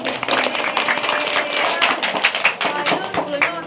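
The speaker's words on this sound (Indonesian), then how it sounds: "Kita kasih aplaus dulu Pak Wahyu." Audience applause for Pak Wahyu at a medicinal plant talk in Kediri, dense and lively clapping from many hands with voices mixed in throughout.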